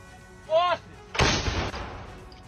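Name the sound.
Ukrainian army howitzer artillery firing at Russian positions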